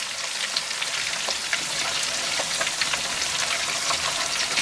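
Lamb liver fries in a pan, a loud, dense, continuous sizzle heard up close without pause, no voices over it.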